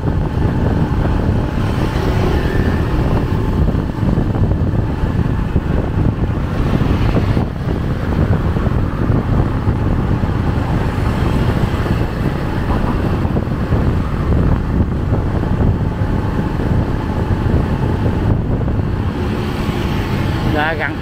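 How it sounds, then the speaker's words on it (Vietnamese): Strong wind buffets the microphone near the sea in Da Nang at night, a loud, continuous rushing roar mixed with passing traffic, while someone talks over it. "Gần tới biển này gió rất là mạnh đấy các bạn"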